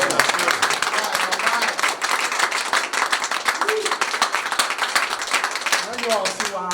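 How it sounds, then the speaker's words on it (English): Union audience at an AFSCME District Council 20 gathering applauds steadily throughout, a dense wash of clapping with some crowd voices mixed in, fairly loud and near. "how about another round of applause"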